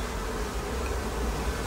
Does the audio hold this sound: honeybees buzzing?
yes